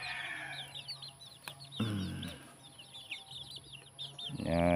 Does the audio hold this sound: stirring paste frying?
no